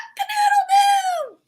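A voice imitates a rooster crowing, one rising then falling cock-a-doodle-doo cry, close and clear.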